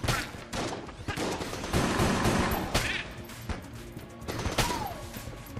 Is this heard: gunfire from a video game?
yes